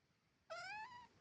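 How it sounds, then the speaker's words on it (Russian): A single clear cat meow, drawn out and rising slightly before trailing off, close and alone in a quiet room. "как кошка мяукала моя"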